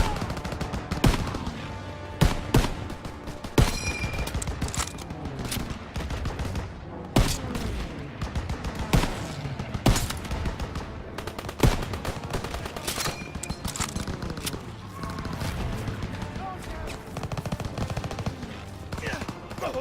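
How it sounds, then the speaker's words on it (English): Heavy battle gunfire in Call of Duty WWII, with rapid machine-gun bursts and flak gun fire crackling almost nonstop, punctuated by louder sharp reports throughout. "Get on that flak gun and take out those Stukas!"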